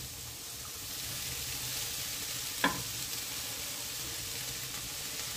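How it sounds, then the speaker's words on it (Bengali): A steady, soft sizzle of vegetables and drumstick flowers frying fills the clip, broken once by a single brief clink of a utensil midway. "এবার সব সবজির সাথে সজনে ফুলটাও ভেজে নিচ্ছি"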